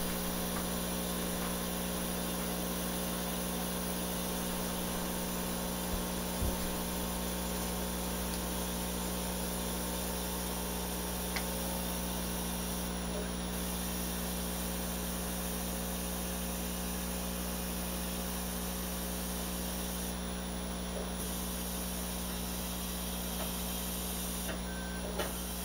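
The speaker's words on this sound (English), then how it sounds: "all that's left to do is set the power on the laser cutter, which I've done, and run the G-code" A K40 laser cutter running a G-code job produces a steady, unbroken mechanical hum and fan whir at moderate level for the whole stretch, with only a few faint ticks.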